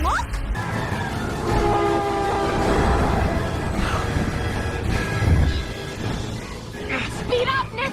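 A train approaching with horn blasts and rumbling rail noise, loud and building, under excited shouting voices in a dramatic scene.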